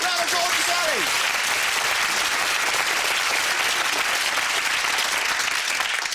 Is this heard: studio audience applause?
yes